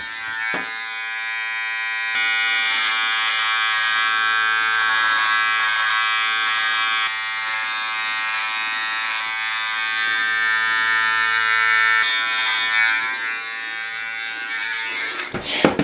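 An electric trimmer buzzes steadily while trimming hair on the back of a neck, a close, high-pitched whine that shifts in tone as the blade moves across the skin, with a few brief clicks and handling knocks.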